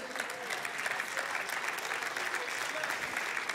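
Dense, steady applause from a church audience during a sermon, continuous and fairly distant with a faint murmur of voices underneath.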